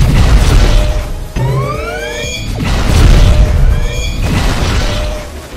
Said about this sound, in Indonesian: Ku tembaki semuanya nih.